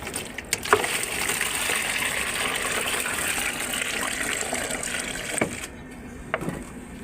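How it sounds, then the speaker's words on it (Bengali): Water from a pipe pours steadily onto a dragon fruit plant, a loud, continuous rushing splash that holds for several seconds before breaking off near the end with a few brief knocks. "ওই পাইপটা করে এটাতে আবার জল দিয়ে দিই"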